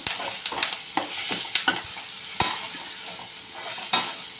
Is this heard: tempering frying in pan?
yes